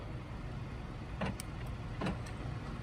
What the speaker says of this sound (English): You hear the doors click.